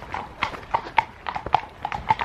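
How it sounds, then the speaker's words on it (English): Several horses clip-clop past at a walk, their hooves giving an uneven series of close, crisp knocks on a hard surface, with faint background noise and no talking. "I didn't know there was three horses."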